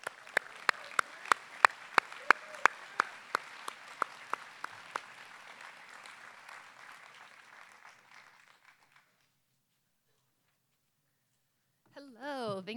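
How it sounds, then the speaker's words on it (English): Audience applause for a sports hall of fame inductee, with crisp individual claps standing out over a broader patter that gradually thins and fades to silence, before a voice starts speaking near the end. "Let's give a big round of applause for Kim Reeder."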